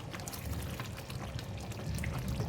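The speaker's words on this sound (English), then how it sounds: "It's boiling so vigorously and it's splashing everywhere." Thick chicken curry with potatoes and coconut milk bubbling and splashing steadily in a pot, close and continuous, with dense gurgling and spattering.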